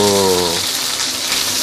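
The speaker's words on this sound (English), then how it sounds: "I just want to sear this side, char this side a bit" Pork searing in a hot pan gives a loud, close, steady broadband sizzle; a short harmonic voice-like tone opens it before the hiss carries on alone.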